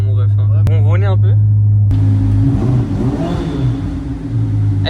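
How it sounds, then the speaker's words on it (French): A V8 car engine revs up in the second half, a rough loud rumble rising after a short stretch of talk, with voices continuing over the engine noise. "au pire, on va écouter le moteur"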